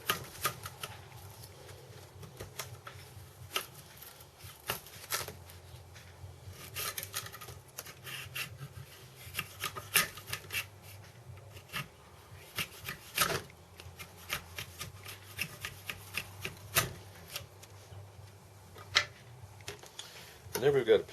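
A knife cuts and shaves through a joint of river cane, giving quiet, intermittent scraping and crackling strokes at an irregular rhythm, close to the listener, with faint low background hum.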